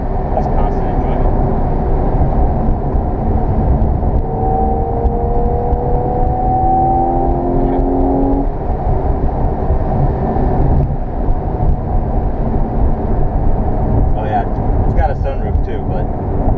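A 2014 Porsche 911 Carrera drives along, its engine and road noise forming a steady, loud cabin drone with a brief rising whine partway through, while someone talks over it.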